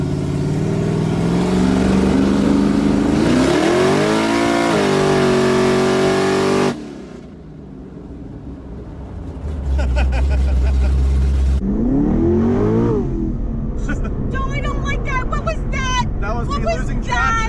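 A 1000-horsepower twin-turbo Chevrolet Camaro ZL1 accelerates hard, its loud engine rising in pitch through several gears, with a brief lull before it builds again, heard close from inside the car.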